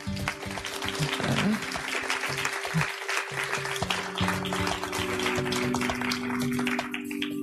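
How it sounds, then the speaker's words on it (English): Audience applause at a community storytelling event in a town center, a steady wash of clapping lasting several seconds with some voices and background hum mixed in. "Give yourselves a round of applause."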